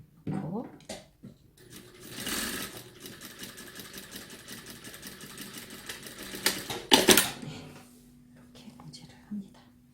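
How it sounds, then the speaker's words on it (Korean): A sewing machine stitches a No. 3 nylon zipper onto pants, producing a fast, rattling run of stitching with a few short bursts and pauses. Soft talking is mixed in close by. "이렇게 봉제를 합니다."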